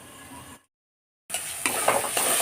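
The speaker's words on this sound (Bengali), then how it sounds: "আবার ঢাকা দিয়ে আমি খানিক্ষণের জন্য আবার কষাবো" Spice masala for an eggplant dish sautés in a pan. A soft sizzle cuts to a moment of silence, then louder stirring and scraping follow over the frying.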